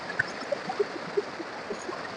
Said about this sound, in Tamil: சூப்பரா தண்ணி போகுது.